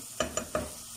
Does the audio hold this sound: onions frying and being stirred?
yes